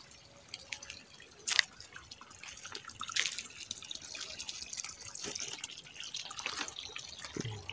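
Water dripping and trickling outdoors at a spring in a rural village with farmed land, a scattered irregular patter of drips over a steady soft flow, fairly close, with a few sharper splashes standing out.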